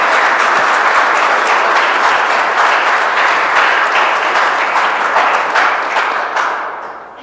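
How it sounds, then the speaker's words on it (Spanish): A congregation at a Christmas Eve mass claps in loud, sustained applause that fades slightly toward the end. "un aplauso a María Santísima y a San José"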